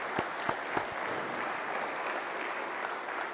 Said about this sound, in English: Let's give a round of applause again to Sergeant First Class Chris Strange.